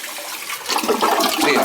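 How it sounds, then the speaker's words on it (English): A household toilet with a suspected leaking flush valve flushes once, a loud close rush of swirling water that builds and continues steadily to the end. "See, it flushes with one time"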